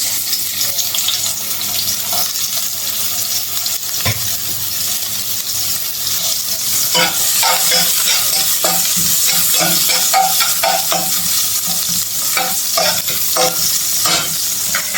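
Onions frying and being stirred in a generous amount of oil, a steady broadband sizzle with scraping spatula strokes growing busier in the second half, close and continuous throughout, while pumpkin and Malabar spinach are cooked.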